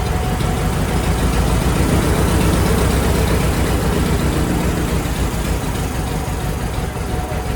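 A 1946 Ford 2N tractor engine with heavy blow-by and smoking idles close by. Its steady low rumble holds at an even loudness throughout, with no talk over it.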